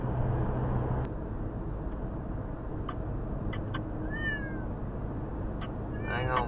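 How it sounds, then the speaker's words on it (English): A cat meows a few times inside a moving car, short high cries rising over the steady low rumble of road and engine noise. "As soon as she swerves, the cat goes meow"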